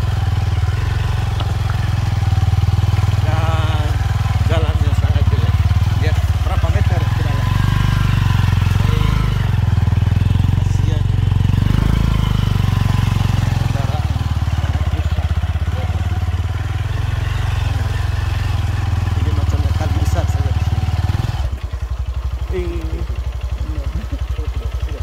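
A motorcycle engine labours loud and close while climbing a rough, ditch-like provincial road in Manggarai, East Nusa Tenggara, its steady rumble and clatter continuing throughout before easing slightly near the end.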